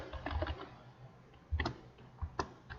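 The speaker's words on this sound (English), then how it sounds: "Type up the explanation." Computer keyboard typing, faint and close, in short bursts of soft key clicks separated by brief pauses.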